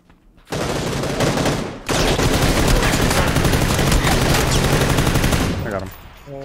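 Dense, sustained automatic gunfire from PUBG fills several seconds, loud and near, with rapid shots blurring into a continuous roar before tapering off.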